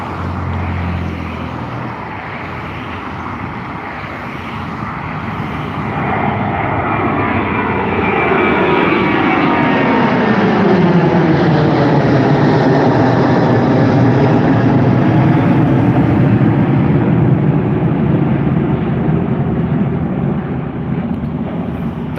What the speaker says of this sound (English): the Ryanair 737-800 now has just begun its takeoff roll